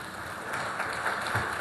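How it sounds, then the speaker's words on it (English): A room of people applauds the board of advisors, a steady wash of clapping at moderate loudness with no pauses. "Look, we give them a round of applause."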